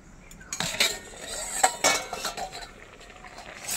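A metal cooking pot of boiled potatoes being lifted off the stove, with a few sharp clanks and clinks of metal against metal, close by and fairly quiet.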